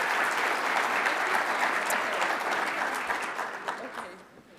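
Audience applause for Congresswoman Mary Peltola of Alaska at a conference event: steady, dense clapping from a sizable crowd that holds for several seconds, then thins and fades toward the end.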